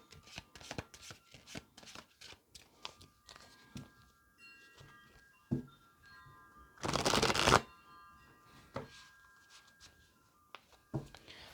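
A tarot deck being shuffled and split by hand, heard as a run of close, crisp card flicks and taps, with one longer riffling burst in the middle, then scattered softer snaps.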